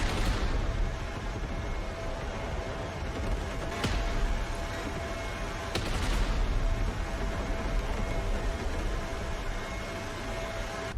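A tank battle with Abrams and Russian tanks in the game Broken Arrow, heard as a constant dense roar of distant gunfire and rumble, with a couple of sharper cannon cracks standing out.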